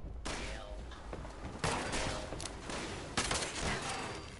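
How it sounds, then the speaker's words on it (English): Rapid bursts of gunfire in the video game Fallout 76, a dense fusillade with louder shots near 1.6 and 3.2 seconds, continuous and close throughout with no speech. "Who is still shooting?"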